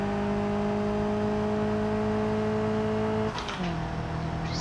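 A Caterham roadster pulling hard in fourth gear, its engine a steady loud drone with rising tones that shifts pitch near the end, heard close and alone without talk.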